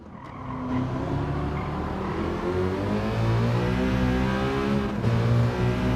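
Citroen GT race car in the Gran Turismo racing game accelerating at Maggiore East, its engine note climbing through rising gear harmonics with a brief dip at a shift, loud and continuous with no talking.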